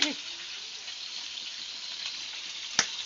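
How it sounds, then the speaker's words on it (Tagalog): Pork belly fries in hot oil with a soft, continuous sizzle and scattered crackles. One sharp pop stands out near the end, and a voice is faintly present. "Ipaparating ko sa inyo kung gaano lumalagatik yung mantika."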